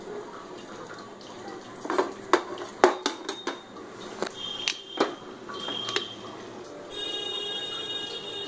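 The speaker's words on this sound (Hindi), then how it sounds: "मैं यहाँ सिल का इस्तेमाल कर रही हूँ ये कूटने के लिए" Whole garam masala spices pounded coarsely on a stone sil, heard as a series of sharp, separate knocks and clacks spaced irregularly, fairly close and moderately loud, with a brief hiss near the end.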